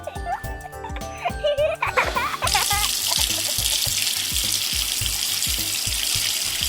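Tap water runs steadily into a sink while doll clothes are washed, a continuous broadband splash that starts after a few seconds of rhythmic thumps and tinkling, with soft voices in the background.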